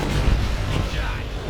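A tank blows up in Call of Duty 2: Big Red One on the original Xbox, a deep booming blast set within continuous, dense battle noise, with a voice talking over it.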